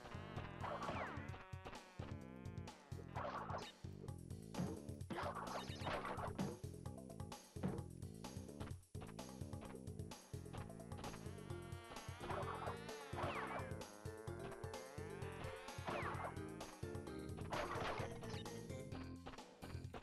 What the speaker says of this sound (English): you gotta listen for the bees